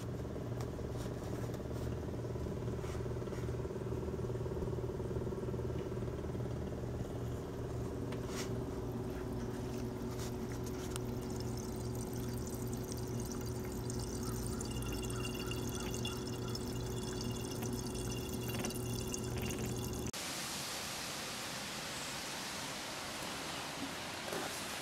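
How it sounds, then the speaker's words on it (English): An electronic fuel pump on a Maserati Merak drains fuel into a container, a steady hum and continuous pouring rush close by that shifts to a brighter hiss near the end. "actuate the electronic fuel pump by turning the ignition to the power on"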